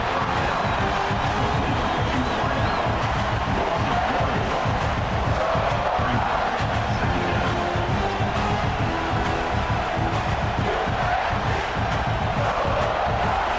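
A dense, steady roar of stadium crowd noise in the football video game EA Sports College Football 26, with scattered cheers and shouts, continuous and loud throughout, no clear single voice standing out.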